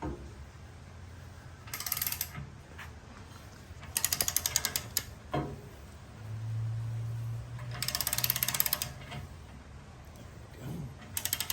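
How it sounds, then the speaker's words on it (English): Bursts of ratchet clicking as a spare tire hitch mount is tightened, several separate runs of rapid pawl ticks with pauses and faint handling noise between them. "soon as we hear the click, that's when you stop."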